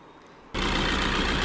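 A 1.3-liter DDiS diesel car engine idles noisily, cutting in abruptly after a moment of near silence and holding a loud, steady, close rumble with a low rhythmic clatter.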